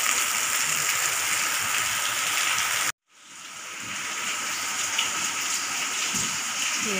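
Heavy rain pouring steadily in a residential setting, a dense continuous hiss that cuts out briefly then resumes at full strength, with no talk.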